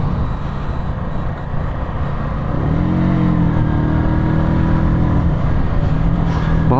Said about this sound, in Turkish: Şurada bir motosiklet var da.